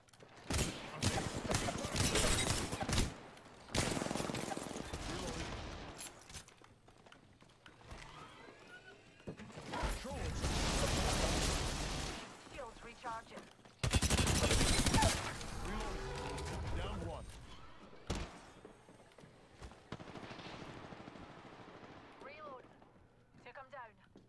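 Gunfire in an Apex Legends firefight: loud bursts of automatic weapon fire come in several clusters, broken by quieter gaps, with someone talking over much of it.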